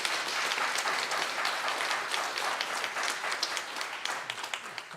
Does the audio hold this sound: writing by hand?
no